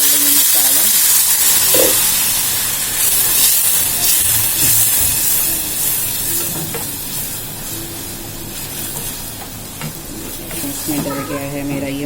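Masala spices frying with onions that have already browned in a pan, a loud continuous hiss and sizzle with occasional stirring scrapes, heard close and steady without talk.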